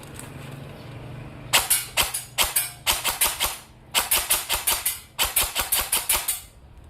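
An upgraded Predator Gen 4 airsoft gun with a Gate Aster 2 ETU fires sharp, close, snappy shots, first in quick single and short bursts, then in rapid full-auto strings of several shots each with brief pauses.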